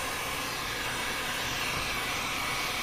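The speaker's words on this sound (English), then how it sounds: "These heat guns are the best for it" A heat gun blows hot air over warped arrow vanes, a steady, loud whooshing hiss of airflow and fan with no breaks and no talking.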